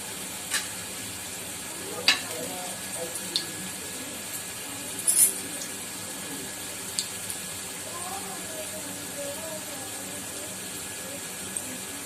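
Jackfruit koftas sizzle steadily in hot oil in a pan, with a soft continuous frying hiss, occasional stirring clinks and a few sharper pops.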